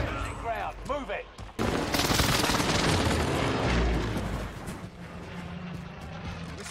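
Enemy gunfire in a Warzone battle royale match, dense bursts of rapid shots and booming impacts filling the space, loud and sustained after a brief stretch of voice chatter at the start.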